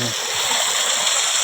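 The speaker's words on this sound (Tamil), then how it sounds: "இதாங்க மலைப்பட்டி ஆற்று தண்ணி" River water rushes and gurgles steadily close by near a village temple, a loud continuous flow that fills the whole moment.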